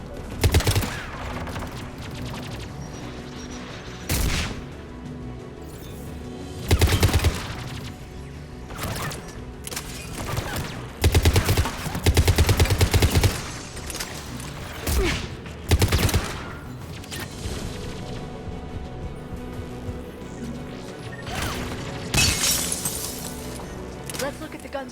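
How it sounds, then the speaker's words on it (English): Anti-aircraft gun in the Mass Effect 3 video game firing loud bursts of heavy automatic fire and booming blasts, repeated in clusters over a busy battle soundscape, with a voice speaking at times. "Anti-aircraft gun."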